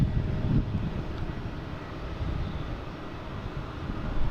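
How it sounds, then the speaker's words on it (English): A Delta Airlines Embraer E175 airliner arrives from Philadelphia at Boston Logan, its engines a steady, broad low rumble at a distance that holds evenly throughout with no voices. "We got Delta Airlines coming in,"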